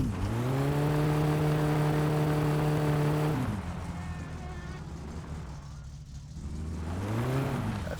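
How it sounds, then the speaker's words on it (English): A rally car engine in the video game My Summer Car buzzes at a steady high pitch, then drops off and fades before rising again briefly, fairly faint and without talk. "I thought I heard a rally car coming."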